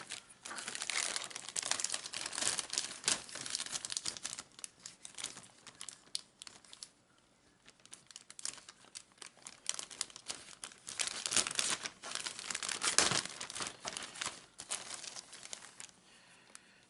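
Plastic model kit packaging being cut open and handled, giving a steady run of close crinkling and tearing rustles, with a short quieter pause midway before the crackling picks up again.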